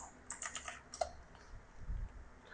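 Keys clack in a quick, light burst on a computer keyboard as a search is typed, a few close taps followed by a pause and a last faint stroke.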